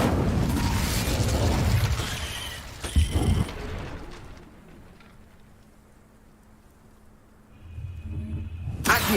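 Incendio fire spell cast in Hogwarts Legacy, a loud roaring whoosh of flame with crackling bursts that fades to a low hum before another fiery surge flares up at the end.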